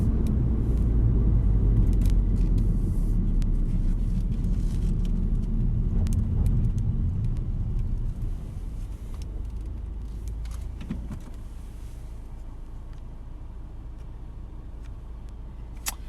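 VW Golf R Mk7 with a DSG gearbox driving and slowing down; a close interior engine and road rumble fades noticeably as the car decelerates, leaving a quieter idle-like hum with faint clicks.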